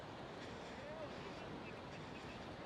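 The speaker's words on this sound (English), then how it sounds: "I do love the sound of the sea, the waves, and happy people as well." Surf washing onto Kuta–Legian beach in Bali at sunset, a steady broadband rush of waves with wind across the microphone and a lively crowd murmuring faintly behind.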